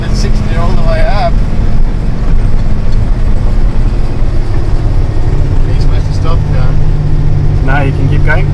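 MAN or VW truck engine pulling steadily at 2,000 rpm, holding 60 uphill on a test drive in Africa: a loud, constant low drone throughout, with people talking over it inside the cab.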